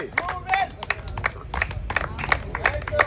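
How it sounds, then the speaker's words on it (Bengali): An audience at an outdoor game contest, where a player balances on a banana tree with a big ball on his head, gives scattered moderate clapping under a loud announcer's voice. "ভাইয়ের জন্য সবাই একটা জোরে তালি হবে"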